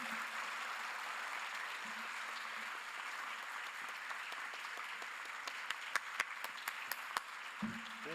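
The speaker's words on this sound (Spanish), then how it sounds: "Un fuerte aplauso para los tres amigos del galardonado profesor" An audience at a national literature award ceremony claps in sustained applause, a fairly distant, even wash of many hands that thins out with a few scattered individual claps near the end.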